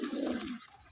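A restless adult pigeon being held and fed a garlic clove gives a soft, low coo that lasts about half a second and then trails off into faint rustling.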